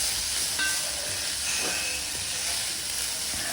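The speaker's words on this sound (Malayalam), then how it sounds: "നമുക്ക് നന്നായിട്ടൊന്ന് ഇളക്കി കൊടുക്കാം." A purple joyweed thoran fries in a pan with a steady, close sizzle, while a spoon stirs it through with soft scraping sounds.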